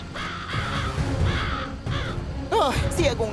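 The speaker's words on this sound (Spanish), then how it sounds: "Cuervos robadores de memoria." Crows in the animated LEGO DREAMZzz series caw in repeated harsh calls, loud and close, mixed with spooky music and sound effects.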